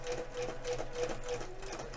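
Sewing machine running steadily with a freeform quilting foot during collage quilting, a continuous mechanical whir with rapid repetitive stitching ticks, close and fairly quiet, no talking.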